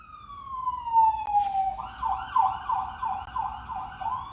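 Police siren sound effect: a falling wail gives way to a rapid rising-and-falling yelp pattern, clear and moderately loud, alone without talk.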